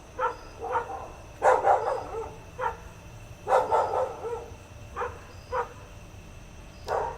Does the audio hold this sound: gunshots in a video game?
no